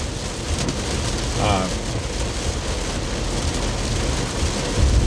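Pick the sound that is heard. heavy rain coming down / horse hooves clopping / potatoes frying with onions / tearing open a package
heavy rain coming down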